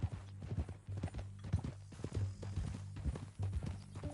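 Steady clip-clop of horse hooves walking at an even rhythm in the video game Red Dead Redemption 2, close and distinct, with no talk over it.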